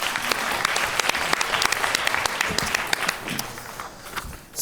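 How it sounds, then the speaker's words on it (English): A conference audience applauds steadily with dense, sustained clapping that fades out near the end. "let's give them a round of applause"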